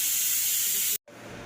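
A pressure cooker boiling vegetables for bhaji lets out a loud, steady hiss of steam that cuts off for a split second, then resumes.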